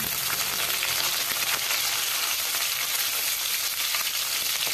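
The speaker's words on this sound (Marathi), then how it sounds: "कढई गरम करून घेतली, तेल टाकून घेतलं, जिरे मोहरी टाकून घेतली, एक मिरची मी हाताने कट करून टाकून घेतली, कढीपत्ता टाकून घेतला" Cumin, mustard seeds, a hand-cut chili and curry leaves crackle in hot oil in a kadhai, a steady, bright, dense sizzle that stays even throughout with no pauses.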